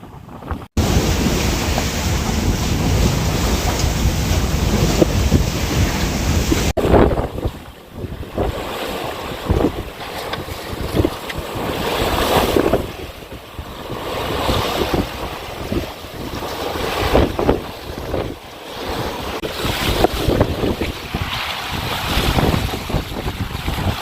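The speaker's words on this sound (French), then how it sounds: "On avance à 6 nœuds, bon c'est pas mal. On est à 15-20 degrés de gîte quoi." A sailboat heels 15 to 20 degrees while making about 6 knots, with loud, continuous wind buffeting the microphone over rushing water and waves against the hull.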